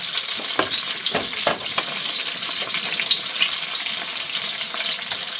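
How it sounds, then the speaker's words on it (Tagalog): Onions fry in a pan until golden brown, giving a steady sizzle with scattered crackles and a few scraping stirs, close and clear, with no voices. "Na golden brown na yung sibuyas naman."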